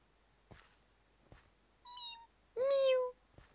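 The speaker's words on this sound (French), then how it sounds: "On dirait un chat." A Pixelmon creature in the Minecraft game lets out a cat-like cry, a short mew followed by a louder drawn-out meow, with faint clicks around it.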